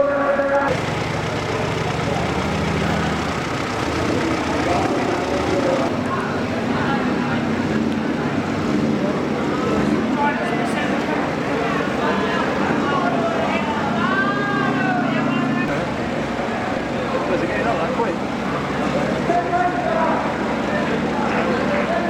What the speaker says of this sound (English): it's just revving, it's just going mad.